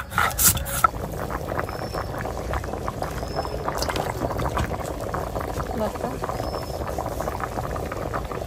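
Desi country chicken curry in a red gravy bubbles steadily in a pot, cooked village style with ground spices. The boiling runs continuously at moderate level with faint clinks near the start, and someone talks over it.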